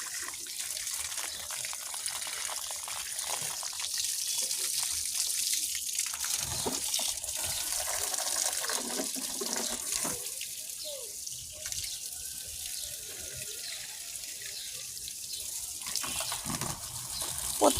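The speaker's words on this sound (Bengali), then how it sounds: "দেখেন আমি এই ছাদের থেকে ওই ছাদের বালতির ভিতর পানি দিচ্ছি" Water poured from one rooftop into a bucket on a neighbouring rooftop, used for watering plants: a steady, faint splashing and trickling flow throughout, with occasional soft background voices.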